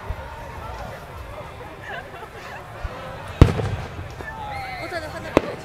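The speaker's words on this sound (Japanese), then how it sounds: "散る花火、" Fireworks bursting at an outdoor display in Cupertino, California, with a crackling background and two sharp distant booms, while people murmur and chat nearby.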